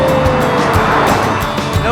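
A car speeds past a hitchhiker standing by a road in New Zealand, a loud, steady rush of engine and tire noise lasting about two seconds with no one talking.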